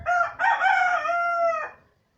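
A rooster crows once in a shooting video game, a clear, close, loud cock-a-doodle-doo lasting under two seconds with no talk over it.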